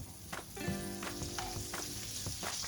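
Buttered sandwich toasting on a tawa griddle, a soft steady sizzle punctuated by several light taps and scrapes of a spatula, close but quiet.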